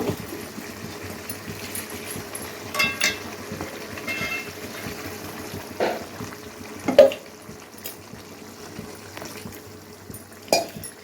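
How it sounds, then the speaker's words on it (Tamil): Water trickles and splashes steadily into a cooking pot, rinsed from a mixer jar, with a few louder clinks and splashes at intervals over a low background hum. "நான் வந்து கொஞ்சமாக அந்த மிக்ஸி கழுவி அந்த தண்ணி கொஞ்சம் ஊற்றிக்கிறேன்"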